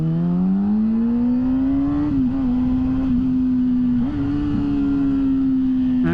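A car cruising through city streets, a steady close engine drone with gentle rises in pitch as it accelerates and brief dips near gear changes, continuous and without talk.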